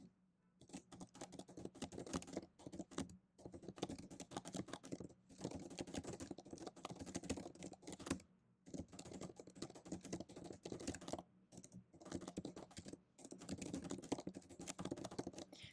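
Keys clatter steadily on a computer keyboard as a detailed command is typed out, quick bursts of tapping broken by a few brief pauses, close and fairly quiet with no talking.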